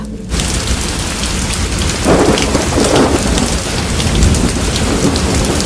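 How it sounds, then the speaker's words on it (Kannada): Heavy rain pours steadily with deep rolling thunder swelling after a brief quiet start, loud and continuous throughout, as a storm effect in a spooky story. "ಸ್ವಲ್ಪ ಹೊತ್ತಿನಲ್ಲಿ ಮಳೆ ಜೋರಾಯಿತು."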